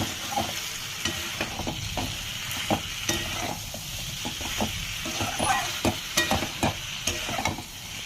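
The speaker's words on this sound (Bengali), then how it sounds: "এর সঙ্গে মাছগুলোও কষাবো। যত চিংড়ি মাছ সব একসঙ্গে দিলাম।" Prawns with potato and papaya being sautéed in a pan, a steady close sizzle broken by repeated sharp scraping and knocking strokes of a stirring spoon, with no talking.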